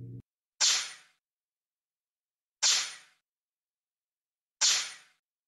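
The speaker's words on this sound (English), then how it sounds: "I also have a turbo on this one." Turbo effect from a Sense ESS Dual+ sound generator: three sharp hissing bursts spaced about two seconds apart, each fading quickly, following a brief low tone at the start, with no talk.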